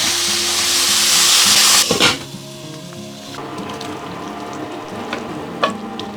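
Tomatoes and onion frying in a pan, a loud hiss at first that cuts off abruptly after about two seconds, then a quieter sizzle with a few light clinks of the spoon.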